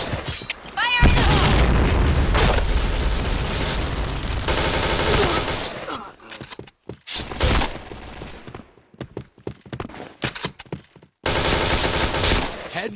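Heavy explosions and dense gunfire fill a shooting video game battle, with a long sustained barrage of booms and rapid shots, then choppier bursts of fire broken by short silences before another loud blast.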